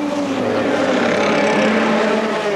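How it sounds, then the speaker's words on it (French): Dodge Viper race cars thunder past during the 2002 Spa 24 Hours, a dense, continuous engine roar with rising and falling pitch bands as several cars run close together, loud and steady throughout. "Et dans ce peloton de Viper enragés, Fabio Babini tentait de prendre l'avantage"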